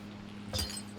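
Items breaking in the horror video game R.E.P.O., a single short glassy shatter with a brief clink over a low steady hum.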